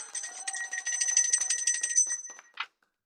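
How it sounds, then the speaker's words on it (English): A rapid, bright metallic ringing rattles for about two seconds, like a small bell shaken quickly, then a final clear ding before silence. "Let me ring the bell."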